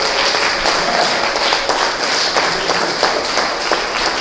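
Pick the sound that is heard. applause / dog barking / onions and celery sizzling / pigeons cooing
applause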